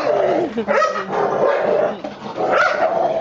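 Dogs bark and yip continuously at close range, several overlapping excited barks over a steady background hum, loud throughout.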